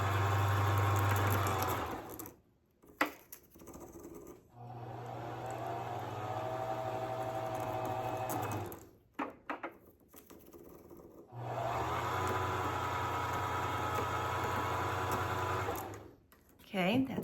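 A domestic sewing machine's bobbin winder whirs in three long, steady runs of several seconds each, separated by short pauses; the motor hum is close and fairly loud, with no talking over it.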